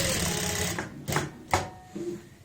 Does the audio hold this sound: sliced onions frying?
no